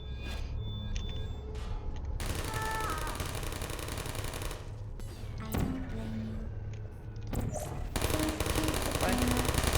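Automated turrets firing in the video game Portal, dense rapid machine-gun bursts lasting several seconds, with a voice talking over parts of it and electronic game tones mixed in.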